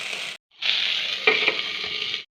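Arum flower frying in a pan with turmeric and salt, a steady close sizzle with stirring scrapes, cut off by a short pause and then resuming.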